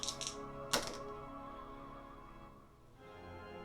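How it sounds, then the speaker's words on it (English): A fate die is rolled during a Silver Bayonet tabletop miniatures game, giving a couple of quick light clacks at the start and a sharper single knock shortly after, close and fairly quiet. "I'm going to use a fate dice to reroll that 1"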